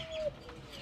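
Pigeons and six pairs of doves kept on a home balcony; a single short, soft coo sounds near the start, then only quiet background.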